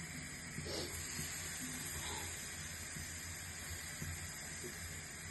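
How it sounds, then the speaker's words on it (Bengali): Carrots fry in a pan with a steady, close hiss and faint sizzling crackle that holds evenly throughout, with no talking over it. "গাজরটা ভাজা হচ্ছে"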